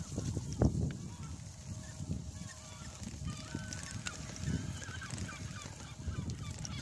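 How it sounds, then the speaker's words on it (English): Seagulls call outdoors at 4 a.m., their harsh honking cries scattered at moderate distance over a rustling, noisy background. "Seagulls at 4 a.m."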